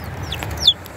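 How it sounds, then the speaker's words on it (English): Small bantam chicks, a few weeks old, make a brief soft cluck and a high chirp close by over a low background murmur. "Six bantam chicks."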